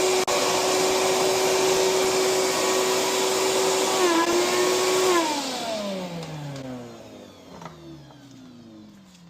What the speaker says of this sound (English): that's only a dry shop vac. Let's plug this in and see what we get.